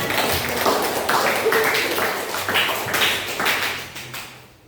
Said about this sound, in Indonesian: Silakan aplaus untuk temannya.